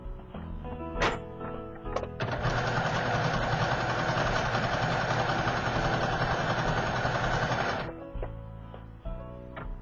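Sewing machine stitching a lettuce edge on stretched fabric, a steady mechanical whir running continuously for several seconds between short taps and handling noises, close and loud.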